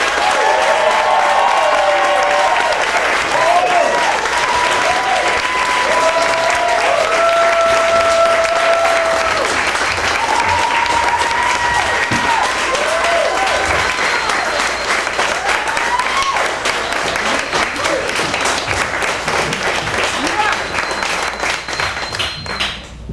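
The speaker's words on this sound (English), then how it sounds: "Give a rounding sound of applause for my brother, my friend, the next Congressman of the 1st District of Illinois, Jahmal Cole." Campaign crowd applauds and cheers for a candidate for Congress in Illinois's 1st District, a long, loud, sustained wall of clapping with shouts and whoops mixed in, holding steady throughout and fading slightly at the end.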